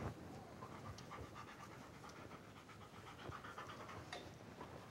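A dog pants steadily with quick, rhythmic breaths, close to the microphone, while a loose tie is fitted over its muzzle as an emergency muzzle; faint scratchy rustles sit under the panting and no one speaks.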